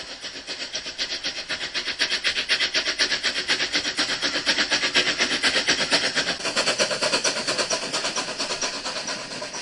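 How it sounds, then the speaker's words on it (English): A train at Aarhus train station runs loud and close, its engine throbbing in a fast, regular pulse that holds steady for the whole stretch, with no voices over it. "Now that's a fierce train."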